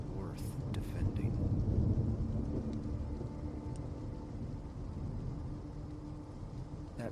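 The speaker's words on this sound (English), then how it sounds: "That first night, the thunder was a physical thing, a concussive blow against the window panes," A thunderstorm with steady rain and low rolling thunder rumbling at moderate volume, a few sharper crackles near the start, continuing without pause.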